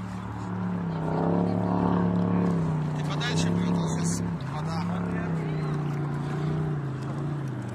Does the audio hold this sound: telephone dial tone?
no